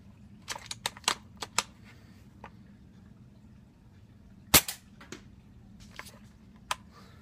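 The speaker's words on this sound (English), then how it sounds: "So I'm going to shoot from here." A toy tank fires a shot during an armour test: a sharp, loud crack stands out midway, surrounded by scattered lighter clicks and taps over a steady low rumble, with no voices.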